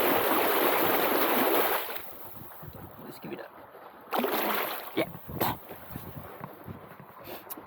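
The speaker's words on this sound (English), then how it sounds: "the problem is with the splashing, it's just you're gonna get wet here" Water splashing and spraying hard from a DIY efoil motor running a thrust test, a loud rushing wash that cuts off after about two seconds, then returns in shorter bursts and splashes.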